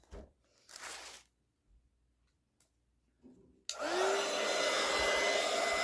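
A hair dryer blows on a wet wooden flower bowl, switching on abruptly after a few quiet rustles and handling sounds and then roaring steadily and loudly with a rising whine.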